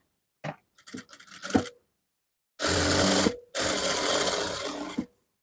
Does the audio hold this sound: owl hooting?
no